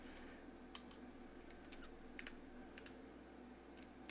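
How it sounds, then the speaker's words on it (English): A code is typed on a computer keyboard, quiet scattered key clicks in short irregular bursts over a low background hum, with no talking. "Just give me a second to type it out."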